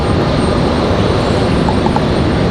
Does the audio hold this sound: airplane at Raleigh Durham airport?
yes